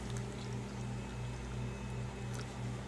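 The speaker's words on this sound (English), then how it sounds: "We're gonna slowly add cold water because you have egg in there, and we're gonna slowly add it" Cold water trickles slowly and steadily into a bowl of freeze-dried black bean cake mix containing egg, a continuous soft pour with a low hum in the background.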